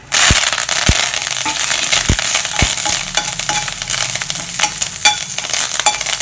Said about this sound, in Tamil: கட்டி பெருங்காயம் வச்சுருக்கேன் அதை அந்த எண்ணெயில் போட்டுக்கலாம் நல்லா பொரியட்டும்